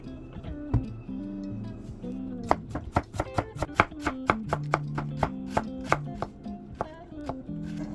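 A knife chops purple cabbage on a cutting board, a few scattered cuts and then a quick, even run of crisp thuds over soft background music.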